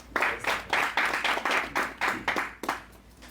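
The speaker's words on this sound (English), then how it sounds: "another round of applause because she's the one that funded" A round of applause for the founder at a company launch and networking event: a small group claps in a brisk, regular beat, fairly close, with no voices over it.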